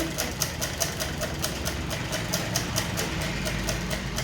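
Sewing machine stitching a maxi dress, a rapid, steady mechanical chatter with regular ticking pulses, close up and continuous.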